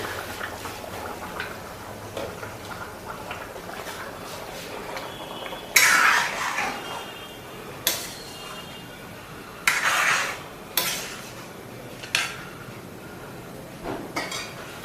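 Spoon scraping and clinking in a pot of boiling potato tomato curry, a handful of sharp metallic knocks spaced a second or two apart over a quiet kitchen background.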